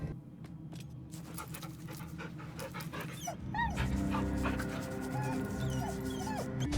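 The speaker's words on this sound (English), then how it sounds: "That's right, you can pet the dog" A dog in Baldur's Gate 3 pants in quick rhythmic breaths close by, holding a chewed ball in its mouth, with game music and chimes rising behind it partway through.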